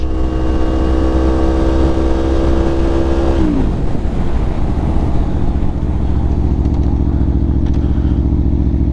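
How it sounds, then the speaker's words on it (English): A motorcycle at about 60 mph brakes hard on the rear brake alone: a loud, steady engine drone drops in pitch, then gives way to a rough, scraping skid noise that continues to the end. "will be doing 60 miles an hour, only back brake. Here we go, only back brake once I hit that bush."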